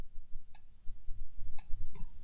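Mouse clicks while resizing a layer in Photoshop on a computer, three short sharp clicks spaced about a second apart over a low background hum.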